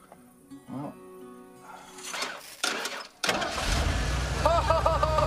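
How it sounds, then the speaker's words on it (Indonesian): A car engine cranks and catches after a few quiet metallic clicks, started with a wheel wrench instead of a key, then settles into a steady idle close by. "Chris sang jebolan STM mampu menyalakan mobil hanya dengan kunci roda"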